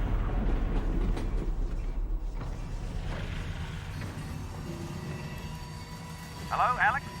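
A train from Half-Life: Alyx rumbles along with low rolling clatter and rattles, fading somewhat before a brief metallic screech near the end, while voices talk over it.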